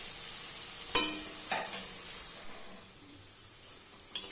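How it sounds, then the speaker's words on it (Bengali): A steady, moderately quiet sizzle of sliced onions frying in hot white oil in a kadai for biryani, broken by a few sharp scrapes of stirring, with no voices. "এবার আগে বেরেস্তাগুলো ভেজে নেব।"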